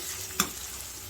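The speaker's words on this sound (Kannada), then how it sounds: "ಈರುಳ್ಳಿ ಚೆನ್ನಾಗಿ ಹುರ್ಕೋಬೇಕಾಗುತ್ತೆ ಈರುಳ್ಳಿನ ಚೆನ್ನಾಗಿ ಮೆತ್ತಗಾಗಬೇಕು ಈರುಳ್ಳಿ" Onions softening in a pan for tiffin sambar give a faint, steady sizzle with one brief stir or scrape partway through, no voices present.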